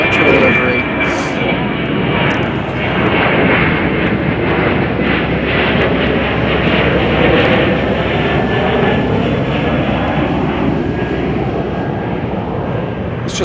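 A United airliner in Continental retro livery passes directly overhead at Chicago O'Hare, its loud, steady jet roar filling the whole stretch with a shifting engine whine as it flies by.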